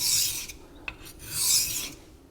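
A knife blade rasps back and forth across Naniwa Chosera whetstones in two long, steady strokes with a brief click between them, close and clear with no voices.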